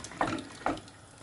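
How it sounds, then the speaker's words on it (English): Stock is poured over oxtail in a cooking pot, making a splashing liquid sound with two distinct gushes, close by and fairly quiet. "just pour it into the meat"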